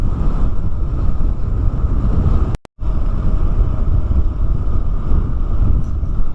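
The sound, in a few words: strong wind on the road near Farol de Santa Marta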